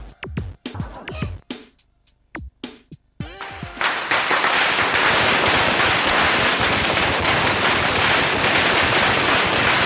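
Firecrackers burst during Diwali celebrations: a run of sharp separate bangs and crackles at first, then a dense continuous roar of crackling explosions that carries on to the end.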